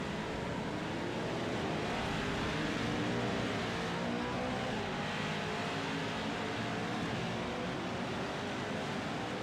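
Off-road race trucks roar around the Iowa Speedway rallycross course, a steady distant engine drone that holds throughout with no clear pass-bys.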